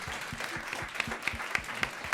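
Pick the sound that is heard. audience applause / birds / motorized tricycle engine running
audience applause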